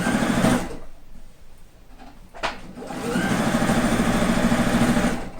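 Sewing machine stitching an upcycled patchwork quilt coat hums loud and close, pauses briefly with a click, then resumes a long steady run to the end.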